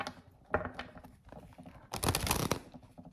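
A deck of oracle cards being shuffled by hand, soft riffling and slapping bursts in quick, uneven clusters, with a louder, denser run near the end, close and fairly quiet.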